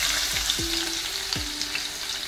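Garlic frying in hot ghee and oil, a continuous close hiss and crackle with a few dull low knocks of the spoon or pan scattered through it.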